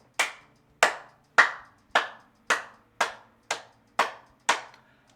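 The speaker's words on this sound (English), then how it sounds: "Everyone start clapping!" Applause in a video game comes as nine evenly spaced single sharp claps, each decaying quickly into silence, loud and close with no voices.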